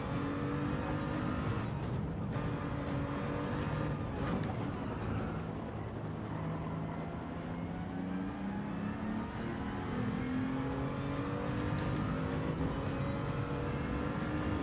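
Touring car engine in Gran Turismo 7 racing at Mount Panorama, a continuous droning engine note rising and falling with gear changes, steady and fairly close throughout.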